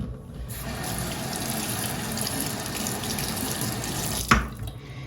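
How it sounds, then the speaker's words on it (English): A tap runs steadily as water rinses part of an Aurora 88 or Optima fountain pen under a sink, a continuous close rushing flow with a brief splash near the end. "I give it another quick rinse."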